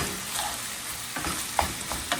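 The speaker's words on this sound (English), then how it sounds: "So for now, all we're doing is browning" Meat sizzles as it browns in a pan for picadillo. The frying is close and steady, with occasional stirring clicks and scrapes and no talk.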